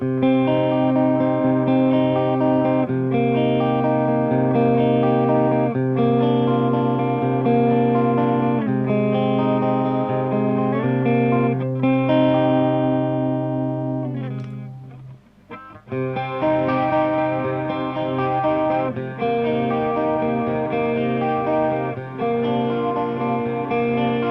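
Clean electric guitar chords shimmer through a Boss CE-3 chorus pedal, ringing and sustained, with a short pause midway before the playing resumes.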